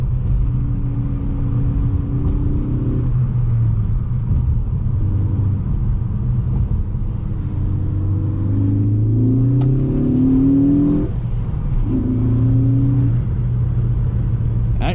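A Ford Focus ST engine revs up in rising surges, pitch climbing through several gear pulls, heard from inside the cabin with a steady low rumble underneath.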